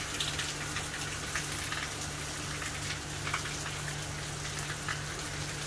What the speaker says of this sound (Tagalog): nag-ulan na naman, mga kabis.